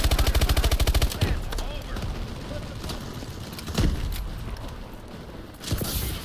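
Suppressing gunfire in the PS4 game Call of Duty: Advanced Warfare opens with a rapid automatic burst, then gives way to scattered single shots and booms over a dense battle din, with voices talking over the action.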